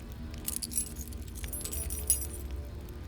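A bunch of keys jangles close by in a dim, quiet setting, with a few bright metallic shakes and clinks over a low background hum and no talk.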